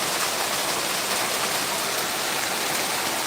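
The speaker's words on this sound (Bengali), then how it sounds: "দেখুন বৃষ্টি কেমন পড়ছে" Heavy rain pours down steadily in a village, a dense continuous hiss of water with no letup and no voices.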